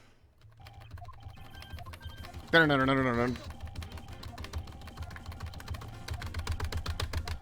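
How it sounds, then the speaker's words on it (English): A clacky computer keyboard being typed on, with dense rapid clicking close to the microphone, joined by a brief burst of speech and background game audio. "like how much clackier this keyboard is than the other one"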